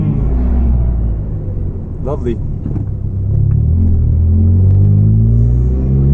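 A Volvo 440 with a massive exhaust leak, its engine giving a loud, deep, rumbling drone heard from inside the car, with the pitch shifting as it pulls and a brief spoken word partway through.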